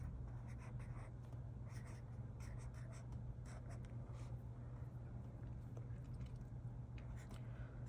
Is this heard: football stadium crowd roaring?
no